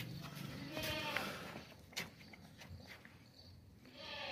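A goat that has recently given birth bleats a few times at close range, with faint rustling around it.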